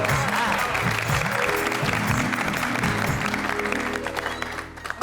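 A studio audience in a Hindi sitcom gives hearty applause for Bapuji, a steady, even wash of clapping that carries on at moderate loudness and then begins to thin toward the end.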